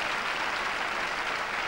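A tennis crowd at a 2005 Valencia quarterfinal between Rafael Nadal and Igor Andreev applauds a point, a dense, continuous, even wash of distant clapping with no talk.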